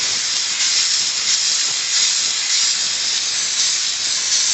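Close, constant hiss of a Dupray NEAT steam cleaner working bathroom grout lines, the steam jet loud and unbroken with faint swells in intensity and no voices over it.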